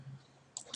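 Computer mouse clicking on a noughts and crosses game, heard as a few faint, quick clicks close by in a quiet room.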